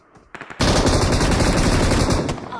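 Rapid automatic gunfire from a video game: a few short shots, then a loud, sustained burst of fast-repeating bullets that carries on to the end.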